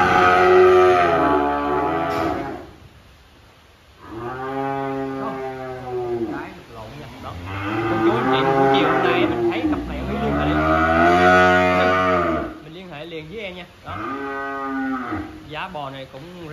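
A pair of cattle for sale low loudly in long, drawn-out calls with strong harmonic bellows, several moos in succession, close and dominant, with a short quiet gap between them.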